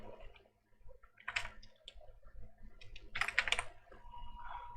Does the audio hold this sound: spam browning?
no